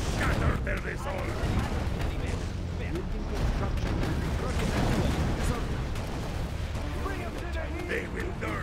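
Cannon and artillery fire in the video game Command & Conquer Generals Contra, in a battle against a China boss general: a dense, continuous barrage of loud booming blasts with unit voices speaking over it.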